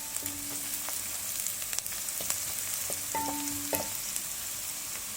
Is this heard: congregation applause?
no